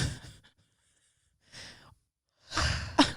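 A person yawns close to the microphone, first with a short breathy exhale, then a drawn-out breathy yawn, then a louder stretched yawn ending in a gasp.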